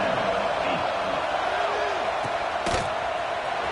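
A college football stadium crowd roars steadily in the background as a commentator talks over it during an NCAA game, with the broad cheering running the whole time.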